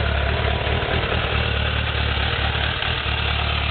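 A Suzuki Bandit 600 motorcycle engine runs at a steady idle, a loud, continuous burbling drone up close with no talking.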